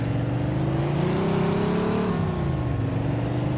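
Car engine in the Mafia 2 video game droning steadily at moderate loudness, pitch rising gradually and then easing back as it drives, with no talking.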